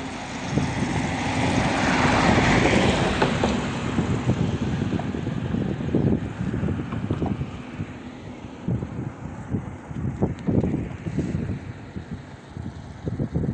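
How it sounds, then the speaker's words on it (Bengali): A vehicle approaches across the Mahipur bridge at Gangachara, a broad engine rumble that swells over the first few seconds and then holds steady, with gusty wind buffeting the microphone throughout. "ওই যে গাড়ি আসতেছে"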